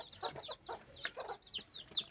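A hen, recently let out after brooding six eggs in a small coop, clucks in a run of short, bright calls with brief pauses, close by and alone.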